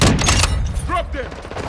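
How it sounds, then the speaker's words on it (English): Call of Duty gunfire on the small Shipment map, a quick cluster of loud sharp shots packed into the first half second, then quieter clatter and game noise. "They're shooting at me!"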